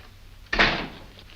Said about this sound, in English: Go outside and close the door.